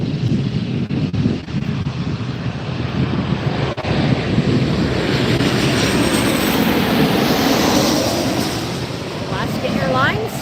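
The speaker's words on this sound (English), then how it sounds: "waiting for the A380 to get cleared for takeoff" Airliner engine roar at LAX airport, a steady broad rumble mixed with wind noise on the microphone, continuous throughout; an Airbus A380 waits nearby for takeoff clearance.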